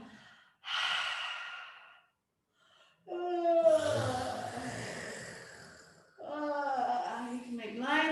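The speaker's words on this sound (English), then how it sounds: "Force yourself to yawn." Forced, exaggerated yawning in a yoga practice: two long, breathy open-mouthed yawns with voiced, sighing tails, separated by short silences, close and fairly quiet.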